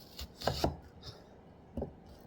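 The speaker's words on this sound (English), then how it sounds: "So I'm going to cut the onion." A knife cuts through an onion on a board with a few quiet, separate chops, two close together and then one more after a pause, faint and alone.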